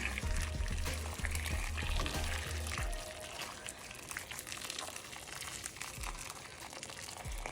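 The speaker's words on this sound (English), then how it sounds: "And I'll be covering those potatoes with hot water." Hot water pours from close by over chopped potatoes in a pot, a steady gurgling stream for about three seconds, followed by quieter trickling and splashing as the flow dies down.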